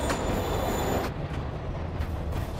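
A train rumbles in the video game Marvel's Spider-Man Remastered, a dense, continuous roar of rolling wheels and rail noise with faint squeals, loud and close throughout.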